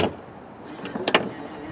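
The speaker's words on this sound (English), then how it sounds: "In the DB11, to shut the hood, you start by shutting the hood like normal and then it latches itself." The hood of an Aston Martin DB11 is lowered and then latches itself, a soft swoosh giving way to a short burst of sharp mechanical clicks and a faint motor whir, close and fairly quiet.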